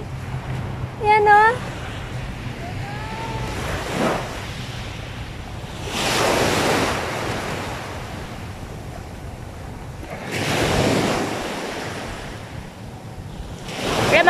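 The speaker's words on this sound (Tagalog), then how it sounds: "Ala, ang lakas ng alon." Strong ocean waves break at a beach, rolling in as loud surges every few seconds over steady wind rumble on the microphone, with a voice briefly audible early on.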